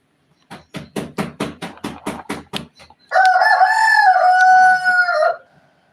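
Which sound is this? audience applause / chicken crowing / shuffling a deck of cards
chicken crowing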